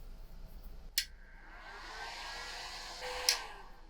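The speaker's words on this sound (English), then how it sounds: "To the warm air dryer." A warm air dryer for watch parts blows a soft, steady whoosh, with two sharp clicks at start and end, fairly faint and without talking, during restoration of a 1949 Vulcain Cricket alarm watch.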